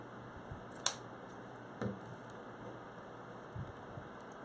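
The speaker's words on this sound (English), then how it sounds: "So we just fold it in half and cut it at a V." Scissors snip the folded end of a ribbon into a V while a door hanger bow is being made, giving one crisp close cut followed by a couple of faint softer clicks over a quiet hiss.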